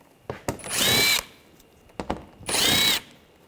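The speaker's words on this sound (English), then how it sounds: "Using a 8mm socket, I'm going to take these screws out." Two bursts of a power driver fitted with an 8mm socket, spinning out screws from a panel on a 2009-2013 BMW 328i xDrive 3.0L L6, each whir about three-quarters of a second long with sharp clicks between, close and loud.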